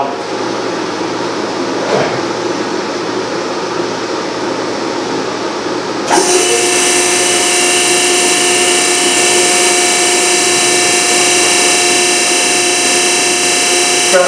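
A diesel service shop test machine runs loud and steady, its mechanical whine jumping to a higher, denser pitch partway through as it steps up to the next RPM setting, with no talk over it.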